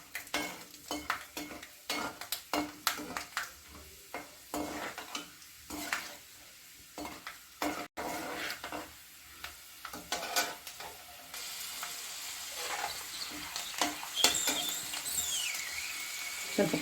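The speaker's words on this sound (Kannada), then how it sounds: "ಕಡಲೆ ಬೀಜ ಸ್ವಲ್ಪ ಹುರ್ಕೋಬೇಕು ಎಣ್ಣೆಯಲ್ಲಿ" Peanuts fry in hot oil for lemon rice, a low sizzle under repeated stirring, scraping and clinking of a spoon against the pan, growing busier and louder toward the end.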